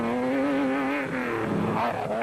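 A Nissan Hardbody 3-litre race truck at the 2007 Limpopo 400 rally drives close and loud, its engine holding a steady droning note with a slight pitch waver, alone with no talk.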